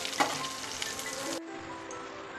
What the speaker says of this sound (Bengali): মেথি শাকটা একটু আমি ভালো করে একটু ভেজে নেবো